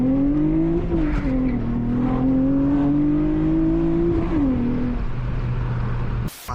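A loud V6 Honda Accord accelerating on city streets, heard from inside the car: a strong harmonic engine note climbs steadily, dips briefly as it shifts, then surges again before cutting off abruptly.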